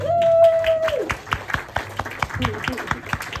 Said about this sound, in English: give an applause for Kieran